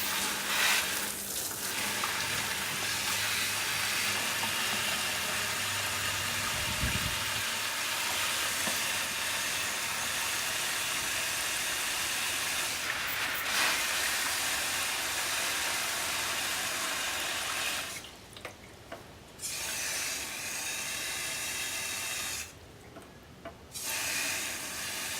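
Water soaking into a fig tree air layer outdoors, a steady broadband hiss and trickle running continuously, with a couple of brief quieter gaps near the end.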